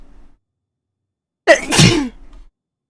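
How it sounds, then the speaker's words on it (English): A single sharp sneeze bursts out close by after a moment of quiet, followed by a brief breathy trail. "I'm gonna sneeze in a minute."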